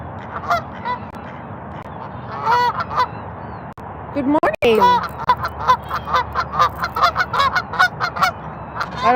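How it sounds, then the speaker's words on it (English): Geese honk repeatedly and loudly nearby in rapid overlapping calls, while a person briefly speaks a greeting among them. "I don't want to get chased by geese."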